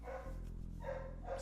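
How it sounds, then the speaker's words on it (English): A new puppy barking faintly in the background of a home podcast recording, a few distant yips and barks over a low steady room hum, no talk. "Sorry, it's the new puppy. Yeah, sorry Oh, about nice. the barking in the background, guys."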